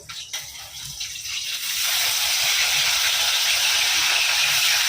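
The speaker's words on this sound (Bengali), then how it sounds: "এদিকে মেয়ে মাছটা ভাজতে দিয়েছি" Hilsa fish frying in a pan, a steady loud sizzling hiss that swells after the first couple of seconds and holds continuous and close.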